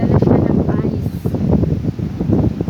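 Strong sandstorm wind roars close and steady against the microphone, a dense broadband rush with gusting swells throughout.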